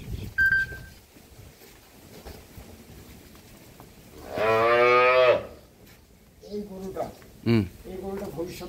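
A dairy cow on a farm lets out one loud, drawn-out moo at close range, with people talking before and after it.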